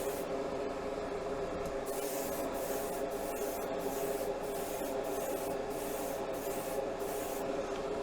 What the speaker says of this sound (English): Now this air compressor is not really great because it really runs out of air pretty quick